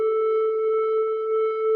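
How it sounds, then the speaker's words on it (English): Omnisphere Authentic Triangle lead synth layering sine and triangle tones, holding one steady pure note with a few clean overtones, smooth and unbroken. "So it's actually an Omnisphere lead. It's called the Authentic Triangle lead."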